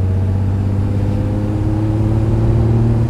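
A 1968 Ferrari 365 GT 2+2 "Queen Mary" with its V12 engine runs at a smooth, even idle nearby, a steady low hum with no voices.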